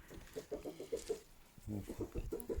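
Chickens cluck in short, repeated bursts at close range as a red hen is chased around a yard, with quiet talk nearby in between.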